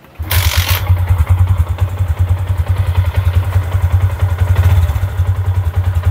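A Yamaha Sniper 150 motorcycle engine showing error codes 96 and 46 kicks into life and settles into a steady, loud, throbbing idle with a rough low rumble that runs throughout.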